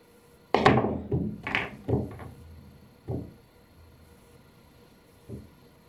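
A billiard cue strikes the cue ball and balls collide on a pool table, with several sharp clicks and knocks close by, then a couple of fainter, spaced taps.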